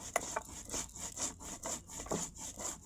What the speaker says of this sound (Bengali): এবার জিরে আর গোলমরিচটাকেও বেটে নেব। ভালোভাবে বেটে নিচ্ছি।